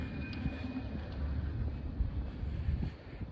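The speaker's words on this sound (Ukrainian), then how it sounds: "а зараз дує страшний і страшний вітер" Steady, heavy wind buffets the microphone with a continuous low roar and gusty rumble, no voices.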